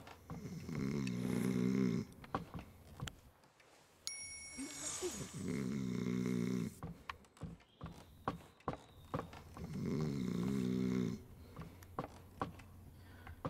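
A person sleeps indoors with loud, rhythmic snoring, three long rasping snores spaced several seconds apart, close by, with small knocks and clicks between them.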